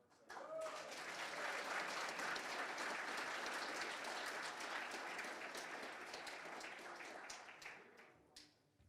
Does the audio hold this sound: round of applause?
yes